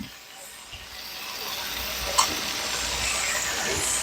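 Salted and peppered pork chops sizzle as they brown in a frying pan, a soft steady hiss that builds slightly, with one brief clink near the middle.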